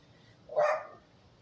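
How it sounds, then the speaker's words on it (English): A single dog bark rings out near an on-deck patio, one short, fairly sharp woof standing out against quiet surroundings. "And yeah, got some dogs."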